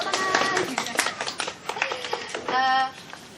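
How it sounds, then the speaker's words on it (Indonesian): Scattered clapping from a small audience at an Indonesian Saturday community gathering, a few hands tapping unevenly at close range, with voices and chatter mixed in. "Iya, tepuk tangan."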